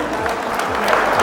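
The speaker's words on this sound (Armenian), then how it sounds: "մի հատ կուզենայի բարձր ծափեր լսել, եթե կարելի է։ Ծափեր տալիս եք։" Guests at a Yezidi wedding applaud loudly, a dense, continuous burst of clapping filling the short moment close and full.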